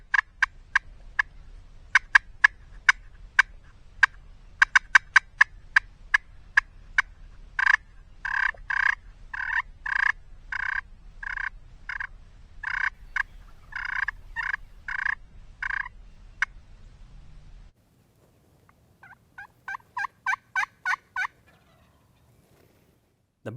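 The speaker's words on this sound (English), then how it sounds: "a bird is gobbling right behind him about 150 yards" A wild turkey on a Texas hunt answers calling from about 150 yards off, with loud repeated gobbles and rapid rhythmic clucking bursts in long series, then a brief pause before a final string of gobbles.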